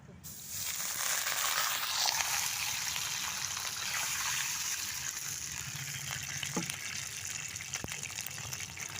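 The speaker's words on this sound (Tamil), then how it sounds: "இப்போ நம்ம தண்ணி ஊற்றிக்கலாம் தேவையான அளவு" Water is poured into a pan for rava kesari, a steady, close gushing stream that runs continuously for several seconds with slight splashing toward the end.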